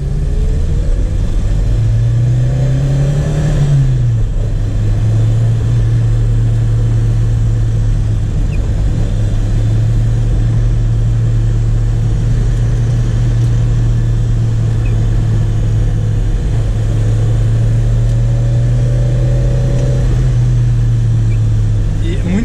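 A 1989 Chevrolet Chevette 1.6 SL engine droning steadily from inside the car while driving, a loud low hum that rises in pitch as it revs near the start and again later, with a voice talking over it.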